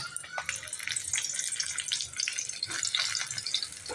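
Stuffed brinjals sliding into a generous amount of hot oil crackle and spatter in busy, uneven bursts, close and fairly loud with no talk over it.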